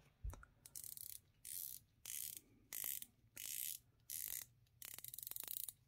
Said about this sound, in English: Nice 120 click unidirectional bezel